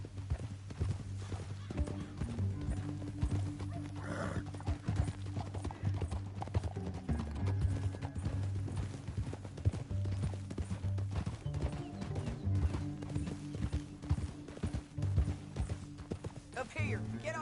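Steady clip-clop of horse hooves trotting at an even rhythm in the video game Red Dead Redemption 2 runs throughout, with occasional voices and a faint whinny mixed in.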